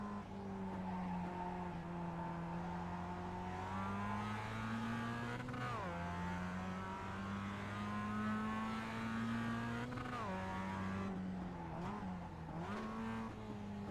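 Mazda MX-5 Cup race car lapping Tsukuba Circuit in the iRacing sim, engine note droning and climbing through gears with sharp downshift dips under braking, continuous and fairly faint, no voices.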